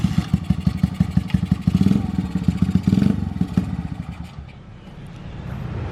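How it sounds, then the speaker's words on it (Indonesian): A custom Honda GL scrambler motorcycle engine fires up and idles with a rapid, uneven chugging putter, fairly close, then the revs drop away and a softer rumble lingers. "Dan sekarang cobain untuk suara motornya"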